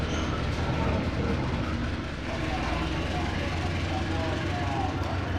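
A train pulls away from Lamongan station in the Trainz railway simulator, a dense, steady rumble of wheels and engine filling the whole clip, loud and continuous, with a voice speaking over it.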